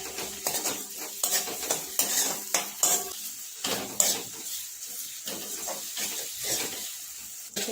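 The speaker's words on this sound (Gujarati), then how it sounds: "હવે ટામેટું એક એડ કરીશું આપણે શેકી દઈશું આપણે" Tomato added to onions sautéing in a pan, with repeated rhythmic scrapes and clinks of a spoon against the pan over a faint sizzle, close and fairly quiet.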